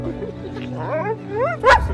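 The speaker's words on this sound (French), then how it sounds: "le chien du couple, lui, n'est pas dans la retenue" An excited pet dog belonging to a couple yips, whines and barks in rising, eager bursts, ending in a loud sharp bark, close by with a voice murmuring underneath.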